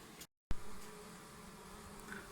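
Faint, steady buzzing of honeybees at a hive with a low hum, briefly cut by a moment of silence near the start.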